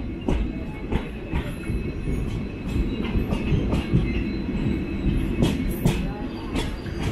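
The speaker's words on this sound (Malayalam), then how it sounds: "ഞാൻ ഇപ്പോഴത്തെ സൈഡിൽ വന്ന് ഈ ട്രെയിൻ കാണിക്കാൻ വേണ്ടിയാണ്" The 06602 Madgaon Express at Mangalore station, a train with Vistadome coaches, rumbles steadily nearby with dense rolling noise and repeated sharp clicks and squeals from the wheels.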